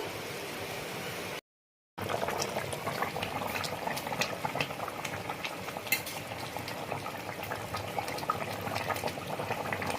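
Tangra fish curry simmers in a pot, a continuous bubbling and gurgling boil with small pops and ticks, fairly quiet and close, broken by a brief silent gap near the start, with no talking.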